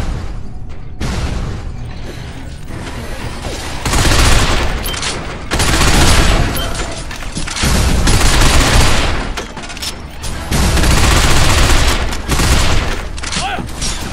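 Sustained, loud gunfire and explosions from the third-person shooter Binary Domain, coming in heavy waves of rattling automatic fire with booms and mechanical clatter, voices shouting over the battle now and then.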